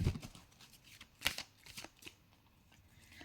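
Tarot cards are shuffled close by in quiet, soft bursts of riffling and papery flicks, with short pauses between them.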